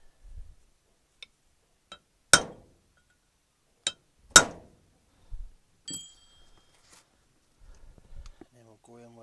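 A hammer drives a centre punch into metal to mark a broken stud on a David Brown tractor PTO. Two sharp, loud metallic strikes ring out close up, with a few lighter taps and clinks around them.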